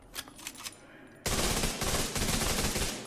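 Rapid automatic gunfire from The Division 2 starts abruptly and keeps going in a loud, sustained burst, after a few quieter single clicks and shots.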